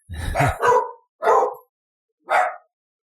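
Dogs in a house bark loudly and close by, four sharp barks in quick succession and then spaced apart, with silence between and no speech.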